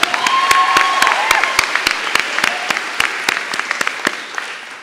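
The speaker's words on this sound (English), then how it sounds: "Amy, oh, you can clap" Graduation ceremony audience applause at a diploma ceremony, scattered claps that build into brief steady clapping from the crowd, with a faint voice underneath, fading out after a few seconds.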